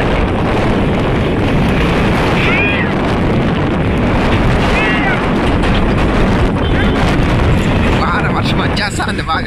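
Strong gusts of wind roar through the trees in Hindupur during a heavy storm, a loud, continuous rush with buffeting on the microphone and a few faint high squeaks in the background.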